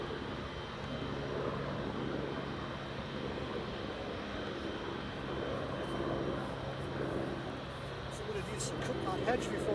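An Emirates airliner on runway 25 at Newcastle Airport, a steady broad engine roar that holds evenly throughout at moderate distance, with no talk over it.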